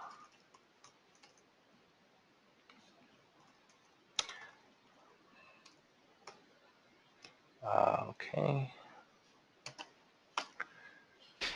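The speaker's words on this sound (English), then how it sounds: "while Jason is typing" Someone types on a computer keyboard in quiet bursts of soft clicks and taps, faint and intermittent, with a brief spoken word partway through.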